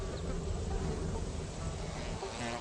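Flies buzzing around a foul-smelling carrion flower (Stapelia) that mimics meat, a continuous close insect hum that stays steady throughout.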